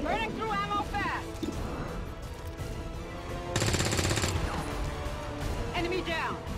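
Automatic weapon fire in a video game shooter, sustained rattling bursts with one especially loud, dense volley midway, heard under ongoing game voice lines and busy background effects.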